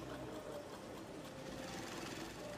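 Sewing machines run in a busy clothing workshop, giving a steady, fairly faint mechanical whirring rattle throughout with no talking.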